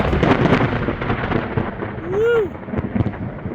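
Rolling thunder from a June thunderstorm with lightning nearby: a loud, continuous broadband rumble fills the whole stretch, with a brief rising-and-falling whistling tone cutting through midway.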